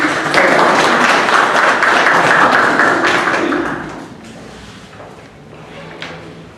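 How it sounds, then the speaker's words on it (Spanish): A seated audience at a mining conference applauds to welcome a guest speaker, with a loud burst of clapping that holds for about three seconds, then fades to scattered claps and room noise. "Por favor, lo recibimos con un fuerte aplauso."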